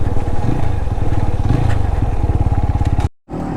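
A TVS Apache RTR 200 4V motorcycle runs on an off-road trail with a loud, throbbing exhaust note close by. The engine is steady and lightly revved, with a brief cut near the end.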